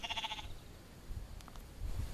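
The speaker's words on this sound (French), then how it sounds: "Oh, le pauvre mouton, laisse ça." Several sheep bleat in a burst near the start, followed by faint rustling and handling noise. Sheep are on chains with a young black dog and a six-month-old puppy nearby, and no one speaks.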